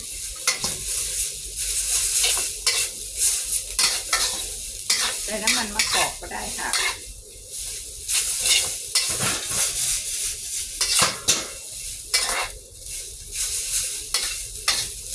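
Spaghetti is stir-fried in sesame oil, with a steady sizzle under repeated scraping and clinking of a utensil against the pan, close and busy, with no talking.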